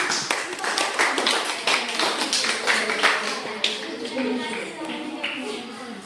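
A group of people clap their hands together in a teacher coaching session, a steady dense patter of many hands filling the room, close and fairly loud, with some voices mixed in underneath.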